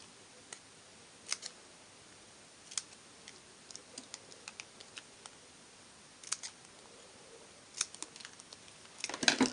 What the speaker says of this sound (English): So I'm actually just going to hand cut this one out.